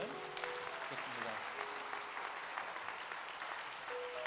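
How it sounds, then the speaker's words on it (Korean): A church congregation claps together in sustained, even applause, heard at moderate distance with a few faint tonal sounds mixed in. "여러분들 박수로 한번 격려해 주시면 좋겠습니다."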